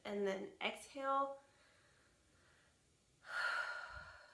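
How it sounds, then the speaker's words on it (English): A deep, close breath drawn in and then let out in a long, soft, breathy exhale, with a few brief voiced sounds near the start. "I want to start off with taking in a deep breath and then exhale"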